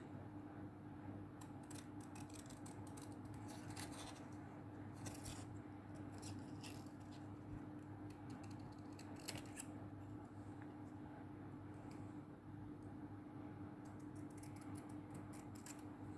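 Scissors trimming paper for a Midori 1Day1Page journal page, heard as a few faint, scattered snipping bursts over a quiet room hum with no talking.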